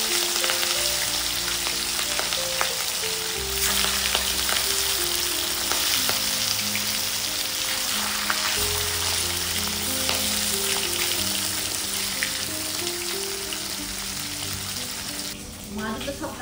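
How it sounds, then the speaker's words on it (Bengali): Katla fish pieces frying in hot mustard oil in a kadai for a Bengali curry, giving a steady, loud, close sizzle that runs unbroken throughout, with a soft rhythmic clatter of stirring over the crackle. "তেল গরম হয়ে গেছে, মাছ দিয়ে দেবো।"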